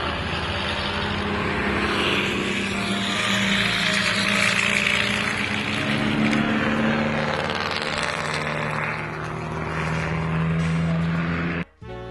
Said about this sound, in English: here's the Delage out on the track and sounding amazingly like a 1930s aircraft